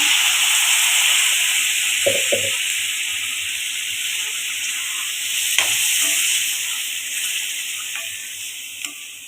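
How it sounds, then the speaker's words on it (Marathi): Water from rinsing the spice-paste grinder jar is poured into a hot pan of masala for a fresh cashew curry, followed by steady sizzling and hissing with a few soft clinks of stirring. "त्याचं आपण हे पाणी टाकूया थोडं"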